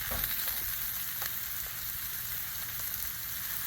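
Bean sprouts sizzle on a Blackstone griddle in a steady, close hiss of frying with a few faint scrapes and no speech.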